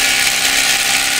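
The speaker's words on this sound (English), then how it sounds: "We're drilling the rock to mount the stand for the hydro." A drill bores into rock to mount the stand for a micro hydro generator, giving a steady, loud, high-pitched grinding whine without pause.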